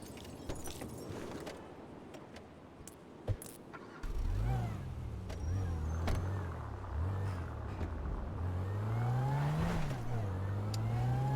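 A stolen car in a video game starts up and its engine revs repeatedly, rising and falling in pitch at close range after an opening stretch of clicks and jangly noises.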